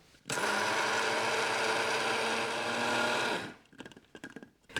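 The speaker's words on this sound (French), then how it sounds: "Moi j'utilise un petit moulin à épices ou à grains à café, mais vous pouvez utiliser n'importe quel mixeur." A small spice or coffee grinder mills tender oat flakes into flour, a loud steady whirring motor drone lasting about three seconds before cutting off, followed by faint rattling and handling noises.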